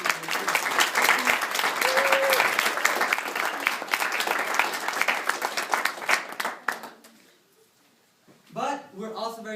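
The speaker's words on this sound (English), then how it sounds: "If we could get a round of applause for Christine." An audience at a law and innovation speech breaks into loud applause for about seven seconds, then it fades away and a voice begins speaking.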